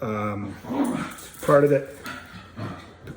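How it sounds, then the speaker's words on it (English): Dogs whine and yelp playfully in short bursts while someone talks over them. "sorry for the dogs there, guys, they're playing"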